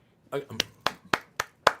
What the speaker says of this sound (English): Let me give you a roaring round of applause, Howard.